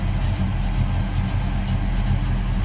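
A 1968 Oldsmobile 442 hardtop idles smoothly and steadily, a close, continuous low engine rumble with no revving and no voices.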